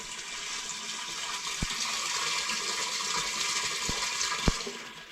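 Water flowing from a low creek into a micro hydro intake in winter, a steady close rushing wash with a few faint clicks, no voices.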